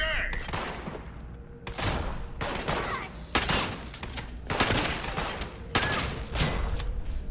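Enemy gunfire in the video game Fallout 76 rattles in repeated loud bursts and volleys, dense rapid shots crowding together over several seconds under a steady game background.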